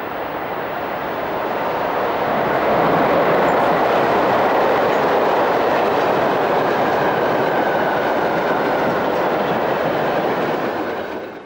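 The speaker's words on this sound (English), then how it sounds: "150-099 powers its train south" Class 150 locomotive 150-099 hauls its train south past the listener, a loud continuous rumble and roar of engine and rolling wagons that holds steady for several seconds before easing off.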